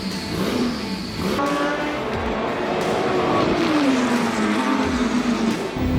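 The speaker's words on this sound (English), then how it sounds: "the Coca-Cola sponsored Porsche, driving superbly" A 1984 Porsche 962 race car in Coca-Cola livery, driven by Bob Akin as number 5, roars loudly through the gears with rising and falling engine pitch as it accelerates and shifts.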